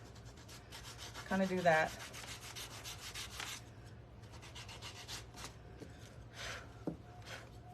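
Sanding a painted gourd by hand: soft, scratchy rubbing strokes of abrasive on the hard gourd shell, faint and close, with a few stronger passes and a brief spoken remark.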